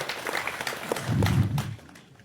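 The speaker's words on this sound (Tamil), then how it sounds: "வரலன்னா கூட நீங்க கைத்தட்டல் கொடுங்க" An audience applauds at a Tamil film appreciation event, scattered claps swelling briefly into a fuller burst with a low rumble before fading out.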